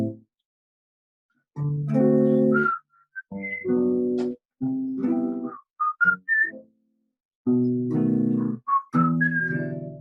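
A person whistles a melodic tune in several phrases with pauses between them, close and clear, the pitched notes sliding and held against a quiet background.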